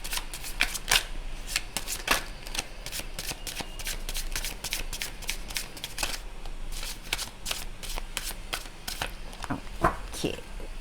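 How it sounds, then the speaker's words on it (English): A deck of tarot cards being shuffled by hand during a reading, with rapid papery riffles and flicks coming in bursts throughout, close and fairly clear, with no speech over it. "to shuffle and to cut the deck and take the cards"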